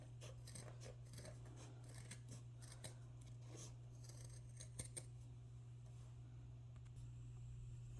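Scissors cut through crocheted fabric along a line, giving faint, close snipping and rasping strokes over a steady low electrical hum, with no talking.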